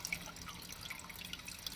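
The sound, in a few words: water dripping slowly into a container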